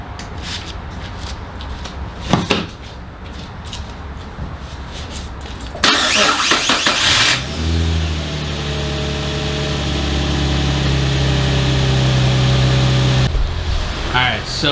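A bagged Infiniti G35/G37 with a Liberty Walk kit cranks with a harsh burst of starter noise, catches and settles into a steady, loud idle. Some talk and handling noises come before the start.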